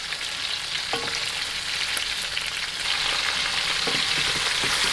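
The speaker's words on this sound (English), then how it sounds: "now I'm just adding all the meat back to the pot. And then I'm gonna slowly caramelize them for a long time" Oxtail meat for a Jamaican oxtail stew sizzles and caramelizes in a pot, a steady, close crackling fry that stays loud throughout with scattered sharper pops.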